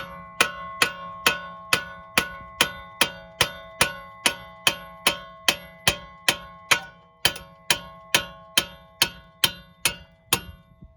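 A hammer strikes the nut on a front strut bolt of a 2010 Buick Enclave or similar GM crossover, around twenty evenly spaced ringing metallic clangs, close and loud, with no talk.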